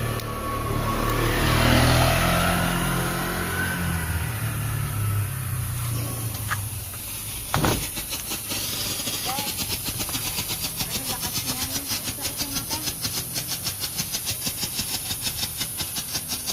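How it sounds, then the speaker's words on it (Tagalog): Leegendary Fireworks flash pot firing in a test: a loud hissing, crackling burst, a sharp pop, then a long run of rapid rhythmic crackles that continues steadily to the end. "Flash pot, test fire."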